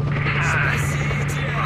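A steady mechanical drone with a low pulsing hum from a helicopter hovering nearby in the video game S.T.A.L.K.E.R.: Shadow of Chernobyl, continuous and fairly loud throughout.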